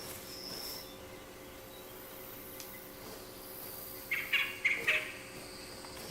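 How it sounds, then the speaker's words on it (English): A bobwhite quail calling in the hunting game theHunter: Call of the Wild, a few clear whistled notes a little way off, rising over a quiet bed of insects and ambient outdoor hum. "That's a quail."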